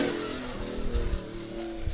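An off-road race truck roars past during a desert-style rally, its engine revving and rising in pitch as it passes fairly close, with gusts of wind and gravel noise.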